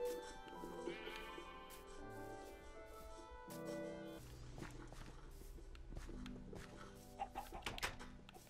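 Minecraft sheep bleat a few times amid clucking fowl and light footstep sounds, fairly quiet with no talking.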